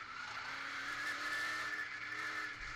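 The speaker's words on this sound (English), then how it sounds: "You can almost hear the throttle where he backed up a little bit." An open modified race car engine drones at high revs at Seekonk Speedway, heard onboard, rising and easing slightly as the throttle backs off, heard steadily without voices.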